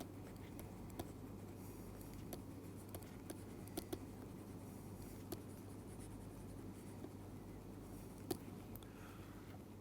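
Chalk or marker strokes on a board during a mathematics lecture on matrix eigenvalues: steady scratchy writing with small ticks and taps, close and fairly quiet over a low room hum, no talking.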